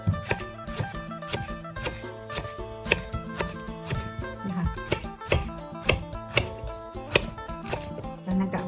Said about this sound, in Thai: เขาก็มาหั่นหัวปีก่อนนะคะ